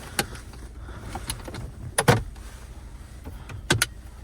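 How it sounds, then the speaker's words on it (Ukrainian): Electric power window running in a Skoda Fabia, short motor whirs and clicks of the glass moving, with a few brief knocks and taps close by in the cabin, no speech. "Світлопідйомник працює."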